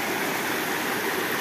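The Meléndez river flows steadily in the rural countryside near Cali, Colombia, a constant broadband rush of water close by, loud and unbroken with no voices.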